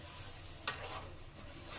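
Egg curry gets stirred in a pan with a soft sizzle underneath, one sharp scrape of the spoon standing out among quieter swishes.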